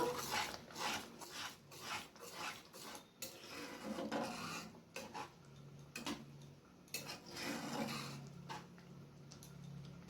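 Boiled potatoes mixed by hand with chopped green chilli and ground black pepper, a utensil scraping and rasping against a bowl in a run of close, uneven strokes with short pauses, no voices.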